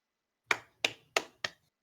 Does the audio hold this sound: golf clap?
yes